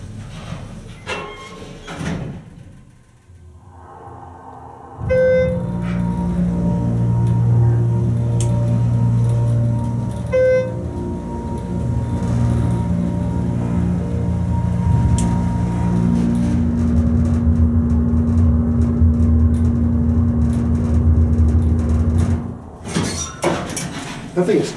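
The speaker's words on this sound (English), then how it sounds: "Schindler, let's listen to that motor" A Schindler 321a hydraulic elevator motor at Foothill Village in Salt Lake City starts after a few quiet seconds, then runs as a steady, loud droning hum with a faint whine until it cuts off near the end.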